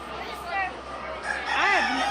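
A rooster at a county fair gives a short crow near the end, with people chatting around it.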